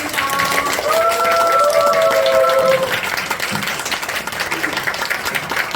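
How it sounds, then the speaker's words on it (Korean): A crowd applauding warmly at a moderate distance, with a brief tonal melody over it before the clapping fades. "큰 박수로 모시겠습니다"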